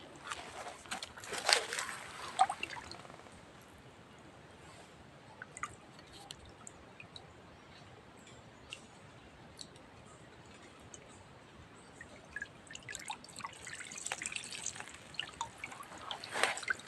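Fish, snakehead and small white fish from a trap, being rinsed in water outdoors, giving soft drips, sloshes and splashes that come in bursts at the start and end, fairly faint with a quiet stretch between.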